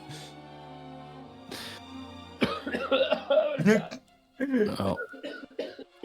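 A short cough breaks into a relaxed Dragon Quest gameplay stream, close and sharp, with people chatting and exclaiming around it.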